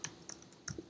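A few quick, soft computer keyboard keystrokes spaced across a brief moment, close and quiet with no voices.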